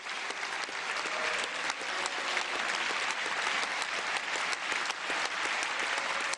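Members of the European Parliament break into sustained applause after an address by François Hollande, an even wash of clapping from a large chamber that continues throughout.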